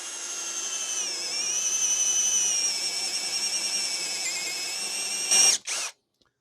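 HyperTough 12V brushless drill spinning a slightly used 1 inch spider self-feed paddle bit as it bores into very soft wood, a steady high whining drone that runs unbroken for about five seconds, then a couple of brief louder bursts before it stops.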